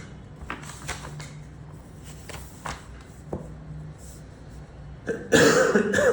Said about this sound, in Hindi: अब ये खांसी कर रहे हैं